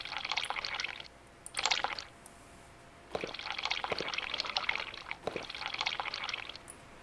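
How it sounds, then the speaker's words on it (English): A character drinking water aboard a ship in the sailing game Sailwind: wet gulping and sloshing sounds in three bursts separated by brief quiet gaps, close and moderately loud. "I don't want to drink from the rum. I want to drink from the water."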